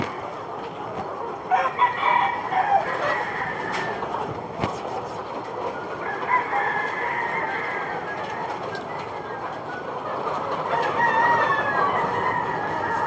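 Chickens cluck and chatter steadily in a noisy coop with steel matting floors, with a rooster crowing now and then over the constant background din.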